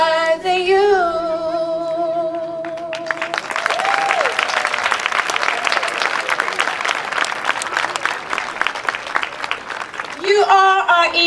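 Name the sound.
audience clapping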